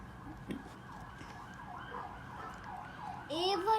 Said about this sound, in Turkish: Evet ambulans çağırmış.